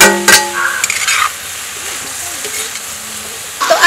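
Paneer and cashews frying in a kadhai for pulao, giving a loud, steady sizzle with sharp clanks and scrapes of a spatula against the pan at the start and again near the end.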